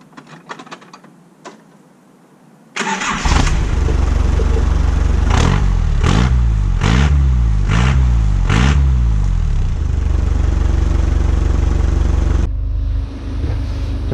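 A Jeep CJ7 engine with a new handmade exhaust starts after a few faint clicks, then idles with a loud, deep rumble and is revved in several short, repeated bursts before settling back and cutting off near the end.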